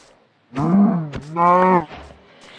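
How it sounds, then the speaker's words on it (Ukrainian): A Minecraft cow moos twice in quick succession, loud and close, with a brief pause between the long drawn-out calls, followed by quiet. "І ще корова."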